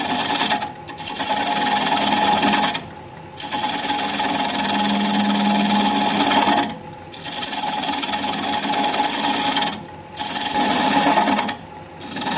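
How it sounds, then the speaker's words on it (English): A 3/8 inch standard grind bowl gouge cuts the tenon off a weathered mountain mahogany bowl spinning on a wood lathe, giving a loud continuous rasping scrape in long passes broken by brief pauses. "I'm just going to take a 3/8 inch standard grind bowl gouge and begin to removing that tenon"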